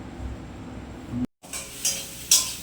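Food sizzles and is stirred in a pan, with a steady frying hiss, a brief cut to silence, then scraping utensil strokes against the pan.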